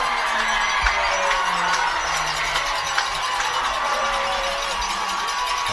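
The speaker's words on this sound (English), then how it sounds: "the Hunterdon Central crowd is back in this game" A high school football crowd at a Hunterdon Central versus Bridgewater game cheers after a successful kick, a steady broad roar with scattered shouts and whistles holding throughout.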